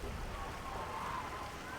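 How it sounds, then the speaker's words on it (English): Fire raining down from the sky over a besieged city in Baldur's Gate 2, a faint, steady crackling patter like heavy rain, with no distinct individual impacts. "I wasn't expecting literal fire to be raining on top of my head"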